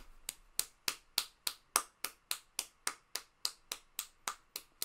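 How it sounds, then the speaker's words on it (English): Sixteen or so sharp, evenly spaced hand claps or finger snaps ring out at a steady brisk tempo, close and crisp, each with a quick decay, as a round of applause for finishing a drawing. "hey, round of applause"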